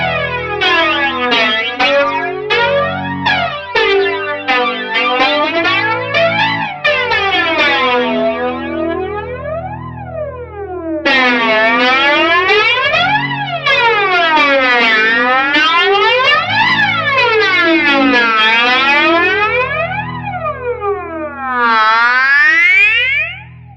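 Aroma Tomsline Twister flanger pedal, an Electric Mistress clone, pushed into self-oscillation, producing loud siren-like whooping sweeps that rise and fall repeatedly over guitar chords, with a sharp rising swoop at the end.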